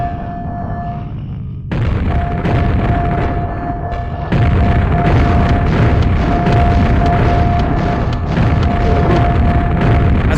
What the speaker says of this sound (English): Yeah, they really love to spam their grenades.